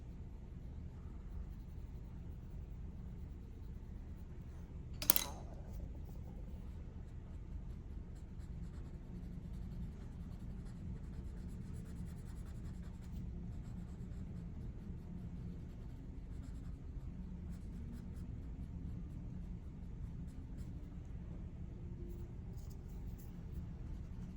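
Graphite pencil and blending stump worked across paper while drawing a half portrait, a steady soft scratching and rubbing close up, with one brief sharp tap partway through and no talking.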